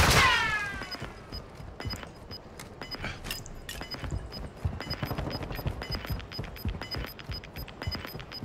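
Gunfire crackles through a Call of Duty Warzone 2.0 battle royale match, opening with a loud blast and followed by rapid, repeated shots and bursts at varying distances.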